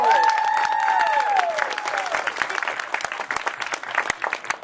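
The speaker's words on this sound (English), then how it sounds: "Round of applause for the constable." Crowd applause for the constable at a mock peasants' trial, a dense round of clapping under musical tones and voices that thins out and tapers toward the end.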